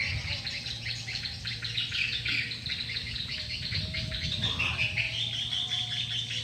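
Swiftlet lure recording plays continuous dense twittering and chirping calls, loud and near, with steady insect-like buzzing beneath and no talk.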